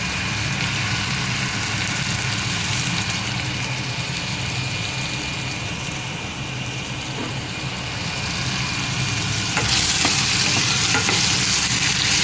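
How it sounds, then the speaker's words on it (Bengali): A constant broadband whir of a kitchen range hood fan runs throughout, steady and close, with frying sizzle beneath and a brief louder surge near the end. "আমি একটু হুডটা অন করে দিয়ে আপনাদের অল্প সময়ের জন্য একটু কষ্ট দিব, একটু শব্দ হবে"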